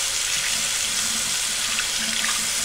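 Warm water runs steadily from a tap into a sink, a loud, continuous hissing rush with no talk over it.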